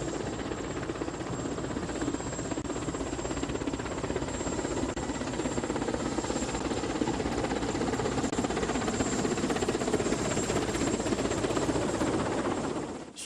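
Helicopter flying from Kinshasa, a continuous loud rotor and engine roar with rapid chopping pulses and a steady high whine, sustained close and unbroken for the whole stretch before cutting off at the end.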